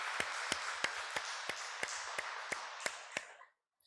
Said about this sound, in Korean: 우리 힘찬 박수로 서로서로를 격려하십시다